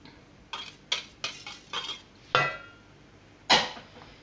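Eggs being placed into a salad bowl while preparing a chocolate fondant: a series of sharp, close clinks and taps in an irregular rhythm, with two louder knocks near the end.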